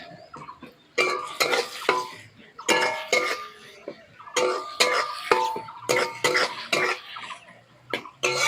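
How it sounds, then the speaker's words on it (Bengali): Onion and garlic frying in a pan while being stirred, with a run of scraping and clattering utensil strokes against the pan, plus a few cough-like bursts, close and fairly loud. "পেঁয়াজের সঙ্গে রসুনটাও ভেজে নেব।"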